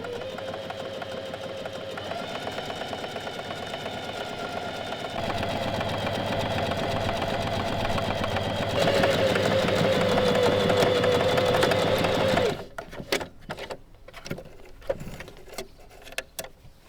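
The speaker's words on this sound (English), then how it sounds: "Use your serger or your regular sewing machine to do this." A serger or regular sewing machine runs steadily along the seam of a pair of wide-leg pants, a close, loud, continuous whir with slight speed changes that stops abruptly, followed by a few light clicks and handling noises.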